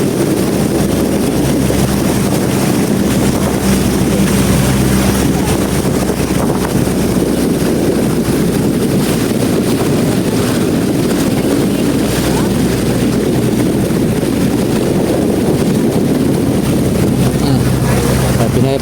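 A boat moves steadily across open water, with a continuous low engine drone mixed with wind buffeting the microphone and the rush of water, loud and unbroken throughout.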